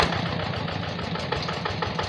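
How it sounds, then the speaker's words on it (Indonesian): A Yanmar tractor engine idles steadily on the road near a rice paddy it is about to plough, a continuous mid-pitched rumble with a faint rhythmic knock, close and fairly loud throughout. "mesin sudah mulai siap dinyalakan."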